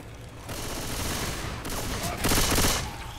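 Sustained machine gun fire in the video game Left 4 Dead 2 rattles fast and continuously, swelling louder in bursts toward the end.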